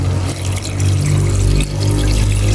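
Water pours steadily and loudly into a cooking pot for a soup broth, with a continuous, close splashing gush and no talking.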